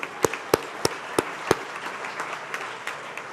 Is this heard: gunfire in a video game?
no